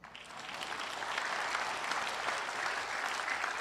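Soft applause from a church congregation during a Tagalog sermon, a dense steady patter of many hands that swells slightly after the start and holds evenly, moderately distant with no voices over it.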